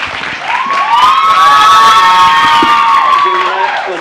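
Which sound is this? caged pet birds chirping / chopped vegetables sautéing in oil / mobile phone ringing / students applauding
students applauding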